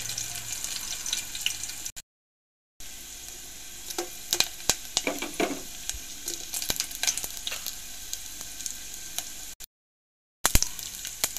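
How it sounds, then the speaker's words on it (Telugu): Lentils and onion sizzle in hot oil for a dal tempering, a steady crackling fry with scattered pops and stirring clatter, briefly cut to silence twice. "పప్పు తాలింపు ఎంత వేగితే అంత బాగుంటుంది"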